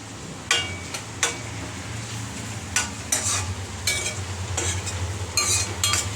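Ginger garlic paste frying in cooking oil while making rice uppittu, a steady low sizzle broken by sharp spoon scrapes and clinks against the pan, close and alone with no talk.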